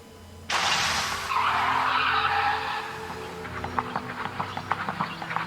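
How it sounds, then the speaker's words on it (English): A car skids with a flat tire in a loud burst of tire noise that starts abruptly, then gives way to scattered knocking and thumping as it rolls to a stop. No voices. "Flat tire. This is going to cut upon my drive time."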